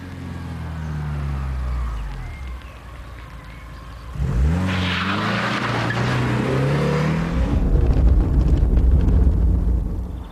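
A 1983 Porsche sports car drives past, its engine note rising and falling through gear changes, loud and close, with a sharp surge midway and steady road roar after.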